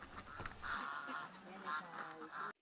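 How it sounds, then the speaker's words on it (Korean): Ducks and geese wandering a rural farmyard beside a village house in Korea, a continuous chorus of quacks and honks from several birds close by, with a voice speaking over them. "시골집 옆마당에선 오리와 거위들이 여유작작하게 논판을 거닙니다"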